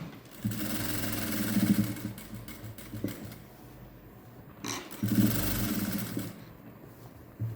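A sewing machine stitches a patchwork blouse in steady bursts of close, busy running, with a brief pause near the middle before it starts again.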